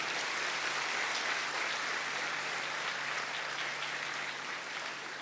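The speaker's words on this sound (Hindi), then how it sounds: "अगर देख के पुलिस की ताली बजा दें।" An audience gathered on a religious pilgrimage march claps for the police, a steady, fairly faint wash of applause from a distance that holds evenly throughout.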